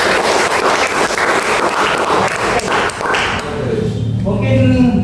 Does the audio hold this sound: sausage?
no